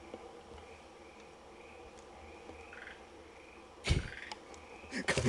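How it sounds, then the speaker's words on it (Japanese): Frogs croak faintly at night in a graveyard in Mie Prefecture, with soft scattered chirping calls over quiet ambience, then a few nearby rustles and thumps. "カエルさん、反応しないでください。"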